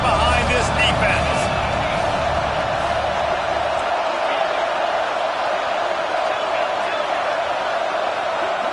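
A football stadium crowd at a college game, FSU at Oregon, roars steadily on a third down, a broad continuous wash of cheering under a play-by-play commentator's voice.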